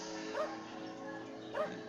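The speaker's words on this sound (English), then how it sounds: "Dog is mad at something." A dog barks in the Peter Gabriel's EVE video game, two separate yelping barks roughly a second apart over a steady low game ambience.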